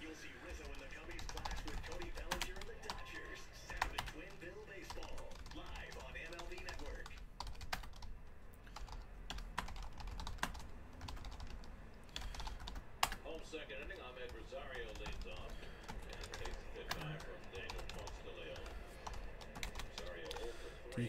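Keyboard typing, clicking steadily for entering sports trading card details during a 2019 Leaf Flash Football box break, running under continuous background noise with someone talking over it.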